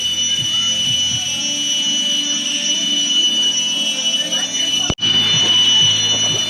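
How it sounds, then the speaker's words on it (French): Steady, piercing high electronic-sounding drone of a small cicada buzzing intensely outdoors in Thailand, loud and continuous like an alarm, with people talking underneath. "C'est une petite cigale qui fait ce bruit."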